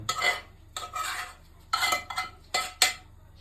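A spoon scrapes and clinks around inside a pot of cheese soup in several short bursts, close and fairly quiet, with brief pauses between strokes.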